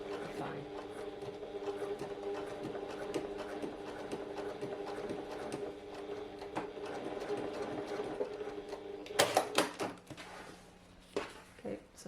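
A home sewing machine runs steadily, stitching a fabric pouch around a curved edge, its motor hum and needle clatter close and continuous before a few louder clunks and pauses near the end.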